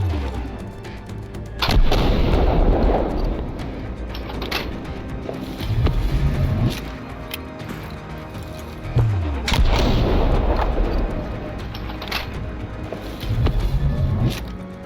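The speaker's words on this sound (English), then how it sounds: "The first one is the Baikan MP18 break action shotgun." Two loud booming blasts from a Baikal MP18 break-action shotgun in a Stalker game, each shot followed by mechanical reloading clicks and rattles, with a steady ambient hum between shots.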